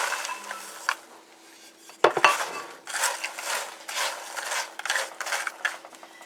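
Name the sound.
pecans being put into pot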